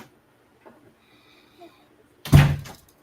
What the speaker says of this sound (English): The door got cracked open.